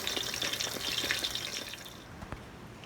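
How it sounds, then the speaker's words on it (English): Eggplant frying in a pan, a soft continuous sizzle with small crackles and pops, close and quiet, with no talking. "I got the last little bit of eggplant fried up"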